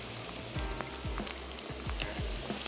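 Vegetables sizzle and crackle in a hot pan for a fish gravy, with repeated low stirring scrapes every half second or so, close and steady, no voices.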